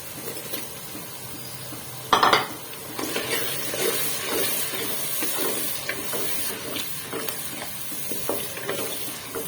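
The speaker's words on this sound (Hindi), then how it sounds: "इसको अच्छे से मिक्स करके इसमें अब हम टमाटर ऐड कर देंगे।" Tomatoes being added and stirred into a frying mixed vegetable masala for a dhaba-style curry, with a clatter of the spoon against the pan early on, then steady sizzling and scraping strokes throughout.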